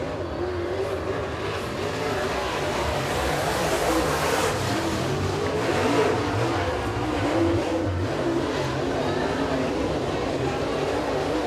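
Super late model race cars roar around Eriez Speedway during qualifying. A loud, steady engine drone fills the whole stretch while a track announcer talks over it.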